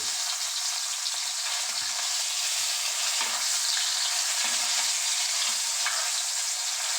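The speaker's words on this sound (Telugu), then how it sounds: "అటు ఇటు చక్కగా తిప్పుకుంటూ మనము ఈ బ్రెయిన్ మొత్తాన్ని చక్కగా ఫ్రై చేసుకుందాం" Mutton brain fries in a pan with a constant, dense hiss of hot oil, steady and close, while occasional soft stirring bumps sound underneath; no voices.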